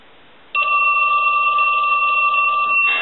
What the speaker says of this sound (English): now what we can do is go ahead and ring the telephone